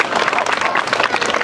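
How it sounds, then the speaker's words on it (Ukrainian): A brief burst of loud applause from a crowd at an outdoor Europe Day festival opening, close and dense clapping with some voices mixed in. "Гучні оплески!"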